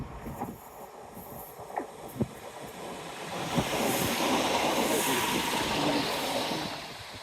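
A train passes on a railway line beside a countryside walking route, its broad rushing rumble swelling midway and holding steady under wind noise, with a few faint knocks and voices beforehand.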